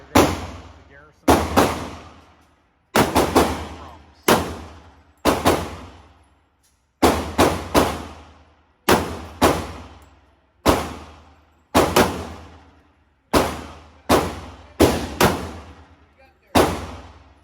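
Kimber Garrison pistol fired at an outdoor shooting range, about a dozen loud close gunshots spaced roughly a second apart, each ringing out with a decaying echo, no talking.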